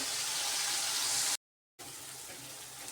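Water pours in a steady hiss into a pan of Bengali tengra fish curry, briefly stopping before a second, softer pour continues.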